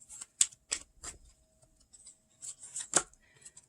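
Tarot cards being shuffled, soft scattered riffles and sharp crisp snaps that come in irregular bursts with quiet gaps between them, faint and close, with no one talking.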